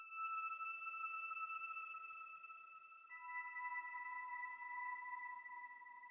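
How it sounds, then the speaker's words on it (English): A synthetic whistle sample used as a melodic layer in a hip-hop beat plays clean, sustained tones, stepping down to a lower pitch about halfway, quiet and isolated without drums or voice. "Next we have a whistle, which comes from Cyrus."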